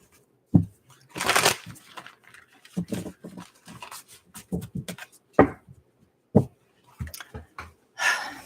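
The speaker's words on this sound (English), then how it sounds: "This will be our last shuffle." Repeated riffling bursts of cards being shuffled close by, short rustling flurries separated by pauses, with faint breathing and small handling taps.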